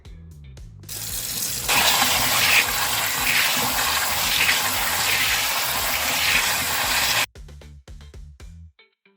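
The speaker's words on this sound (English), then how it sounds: "I just like to rinse them down in case there's any excess dirt, and I'll just kind of maneuver them around and just to give them another rinse" Produce is rinsed under a running kitchen tap; water gushes loudly and steadily for several seconds, then shuts off, followed by a few wet handling sounds and drips.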